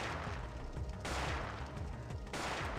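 A shotgun firing buckshot in the PS1 game Parasite Eve 2: two heavy blasts about a second apart, loud over a busy, rumbling game soundscape.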